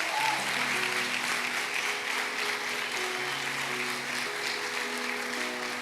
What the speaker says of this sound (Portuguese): Você pode aplaudir a Deus por essa palavra em nome de Jesus?